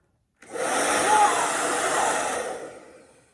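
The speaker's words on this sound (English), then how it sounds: "It's a hairdryer. It definitely has airflow in it." A hair dryer switches on and blows with a loud, steady whoosh close by, then winds down toward the end.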